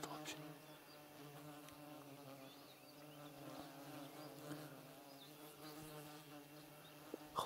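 Mosquitoes buzzing in the open air on a summer hunt, a steady, close insect whine with several tones layered over one another, continuing unbroken through the whole stretch.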